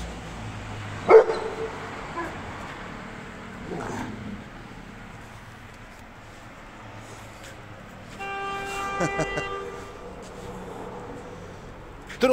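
Scattered barks from fighting dogs at a distance on a side street, a few isolated yelps spaced apart, with a horn-like tone sounding briefly in the background.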